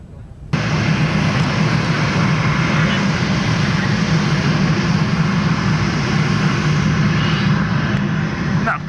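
Red Arrows jets flying in a four-ship formation pass with a steady, loud broadband jet roar that starts abruptly and holds for several seconds, with speech faintly mixed underneath.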